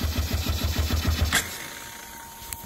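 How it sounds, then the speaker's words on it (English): A repaired motorcycle fitted with new spark plugs cranks outdoors in the cold, with a quick run of even, rhythmic chugging pulses that stops abruptly, followed by near-quiet and a faint click. "Ah, love this motorcycle, and I thought she was done."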